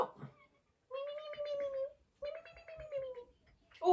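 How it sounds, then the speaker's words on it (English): A cat outside a door gives two long, drawn-out meows, each lasting about a second with a short pause between them, loud and close with no talking. "My other cat, Simba, just sits outside and meows."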